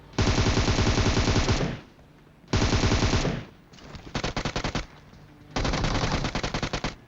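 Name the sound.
gunfire in the video game PUBG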